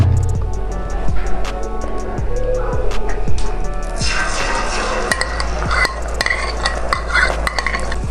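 Leftover beaten egg spread thin and frying in a pan, a loud close sizzle with metallic clinks and stirring taps, the hiss swelling brighter about halfway through.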